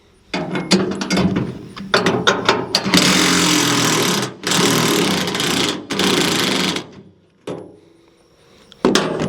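A ratchet wrench loosens bolts on a brush hog mower, its rapid clicking pawl heard in loud, close bursts separated by short pauses, with a few isolated clicks toward the end.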